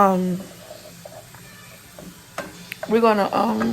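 Shrimp cook in a pan until pink, giving a soft, steady sizzle with a few stirring clatters, under and between bursts of a nearby voice talking.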